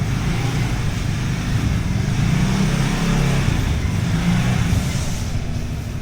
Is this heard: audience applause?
no